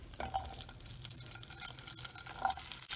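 Mixed vegetables sautéing in oil in a kadai for kadai paneer, a soft, fairly quiet sizzle with light stirring and faint scraping throughout, no speech.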